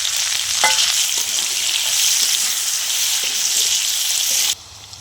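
Cardamom, cinnamon, bay leaf, whole cumin and chopped onion fry in hot oil, a loud steady sizzle with stirring scrapes that drops away abruptly near the end.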